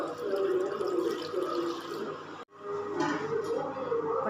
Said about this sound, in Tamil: இப்போ அதில் வந்து தண்ணி சேர்த்துக்கலாம்.